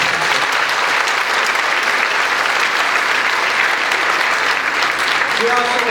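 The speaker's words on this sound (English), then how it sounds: "How about another round of applause for these great musicians?" A loud, sustained round of applause from the audience at a school winter band concert, dense and even from start to finish.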